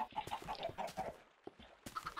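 Chickens cluck repeatedly in a Minecraft Skyblock world, a quiet, busy patter of short clucks and bird calls running throughout.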